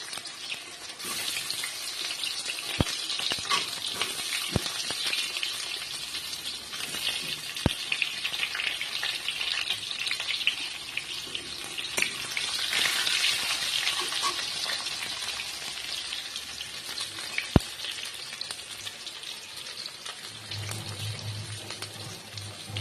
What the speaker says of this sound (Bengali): ফোড়নটা হয়ে গেছে, এবার আমি সেদ্ধ করা আলুগুলো দিয়ে দিব।